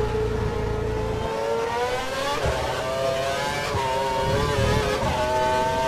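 In the F1 2012 video game, an F1 race car engine screams through a lap in the Germany session, its pitch climbing and dropping repeatedly as gears change, loud and continuous with no talking.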